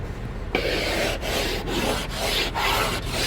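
An ice scraper grinds ice off a car windshield in long, harsh rasping strokes, five or six in a steady rhythm, loud and close with no voices over it.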